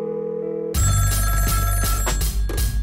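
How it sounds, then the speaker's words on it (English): A telephone rings on unanswered as a bell-like electronic tone, then a loud dense music bed with booming bass and sharp hits cuts in and plays over it. "Warum nimmt da keiner das Telefon ab?"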